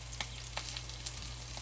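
Parmesan-crusted walleye sizzles in a hot pan, a steady close frying hiss with faint crackles and a low hum underneath, and no talking.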